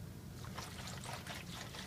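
Water is poured into an ice bath, a steady close trickling and splashing stream that runs for a couple of seconds without speech.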